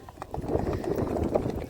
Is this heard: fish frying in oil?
no